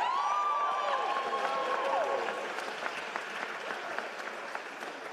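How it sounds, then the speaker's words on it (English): An audience applauds a finalist in an applause-off contest at a PowerPoint karaoke event, a dense, even round of clapping that stays at a steady level and fades slightly toward the end, with a voice briefly heard at the start. "but we're having an applause off now."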